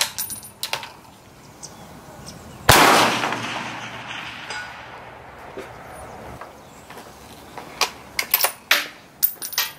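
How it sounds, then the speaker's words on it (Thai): Rifle fire at a long-range outdoor range, aimed at steel target plates around 400 meters: one loud shot with a long rolling echo, then a run of sharp clicks and faint distant hits over a steady outdoor hiss. "ยิงโดนนะครับเสียงฮิตทั้งคู่เลย"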